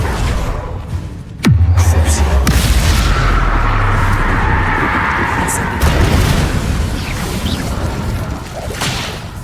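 The Confringo fire spell in Hogwarts Legacy lands with a sharp whip-like crack and booming burst, followed by a sustained fiery roar and a second whooshing impact midway, loud and close.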